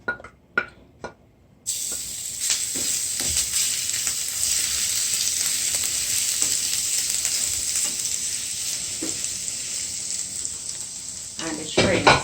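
Garlic dropped into hot oil in a pan for a shrimp stir-fry: a few clinks, then a sudden loud, continuous sizzle that holds steady, with faint stirring and another clatter near the end.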